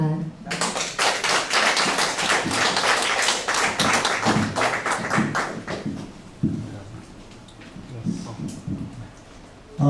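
Applause from a seminar audience welcoming the lecturer at a Korean history and humanities talk in New York, a dense, fairly loud patter of clapping that fades in strength, with a voice speaking over it.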